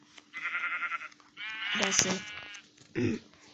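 Several bleats from a Minecraft sheep, synthetic and game-like, in bursts with short pauses between them, loud and close.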